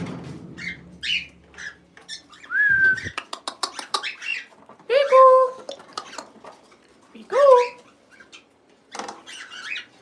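Pet birds at a breeding box chirp and whistle in short bursts at close range, mixed with light metallic clinks and rustling.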